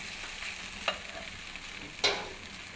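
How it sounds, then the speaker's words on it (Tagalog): Chicken simmering in second coconut milk with curry powder, a soft steady bubbling sizzle broken by two sharp stirring clinks, with no one speaking. "Ilalagay na natin yung ating pangalawang gata para lutuin ang ating chicken."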